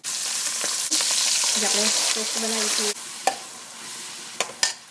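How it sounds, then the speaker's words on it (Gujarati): Whole red chillies and a bay leaf roast in a pan for Gujarati undhiyu, giving a close, steady sizzle with scraping stirs and a few sharp clinks, while a voice speaks briefly. "લાલ આખા મરચાં, ધમાલપત્ર, આપણે થોડું એને ભૂની લઈશું।"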